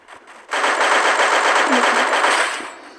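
Rapid automatic gunfire in a video game, a loud sustained burst of fast shots lasting about two seconds after a brief quiet start, then tapering off.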